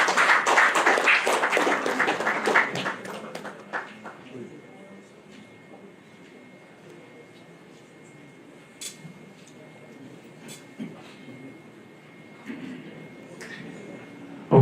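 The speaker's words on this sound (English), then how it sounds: "Ladies and gentlemen, once again, please, a round of applause to Dr. Stephen Akintayo." Audience at a Lagos book launch claps in a loud, dense burst of applause lasting a few seconds, then it fades to scattered claps and a quiet room with a few taps.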